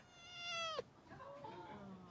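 A single drawn-out kitten meow, close and clear, sliding down at the end, followed by quieter murmuring.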